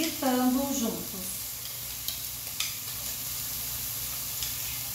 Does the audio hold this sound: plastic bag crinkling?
no